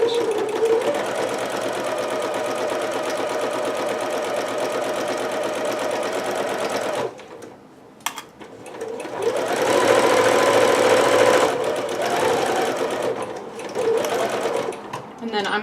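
Sewing machine backstitches the corners of a Pikachu dress: a steady close whirring run of stitching, a short pause with a clunk, then more stitching in bursts, with a voice talking over parts of it.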